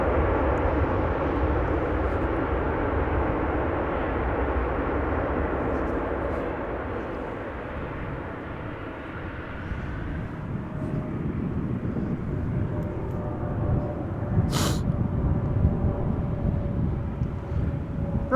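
An Icelandair Boeing 737 MAX 8 lands at Amsterdam Schiphol, its broad jet roar swelling as thrust reversers engage, then easing off into a lower rumble with wind noise.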